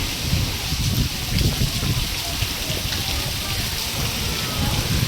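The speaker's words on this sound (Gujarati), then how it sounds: "વાવાઝોડું વરસાદને ચાલુ થઈ ગયો" A steady downpour of heavy rain roars continuously on a farm field, with gusty storm wind rumbling low beneath the dense hiss of water on surfaces.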